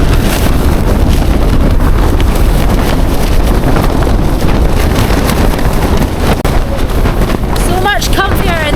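Gale-force wind roars and buffets a Hilleberg Akto tent on a mountainside, with loud, constant rumbling and flapping close by that drowns out everything else.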